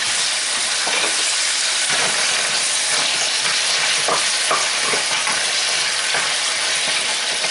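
Onion sizzling and frying steadily in a pot with a bit of stirring, a loud continuous hiss with no talk over it.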